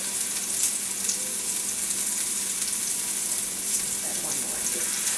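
Beef and lamb meatballs fry in oil in a 12-inch cast iron skillet, a loud, even, close-up sizzle that holds steady throughout with no voices.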